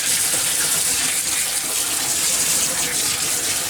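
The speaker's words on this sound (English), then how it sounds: "just rinse all this off using hot water" Hot tap water gushes steadily over the neck board of a 19-inch K7000 arcade monitor from a Rampage cabinet, a loud, continuous broadband splashing rush with no pauses.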